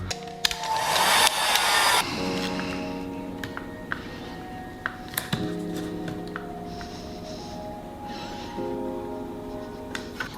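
A heat gun blows hot air in a loud hiss over vinyl wrap film on a BMW 1 Series M Sport F20, then drops to a softer steady whir with light tapping and handling noises.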